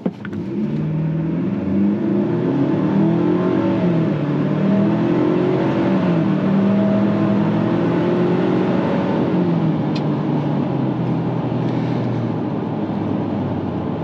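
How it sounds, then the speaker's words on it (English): A 2024 Ford Ranger Lariat four-cylinder accelerates hard from a standstill, its engine note climbing and shifting in a loud, sustained roar heard from inside the cabin, with no talking. "So I'm just gonna quickly accelerate just so you can see what it's like."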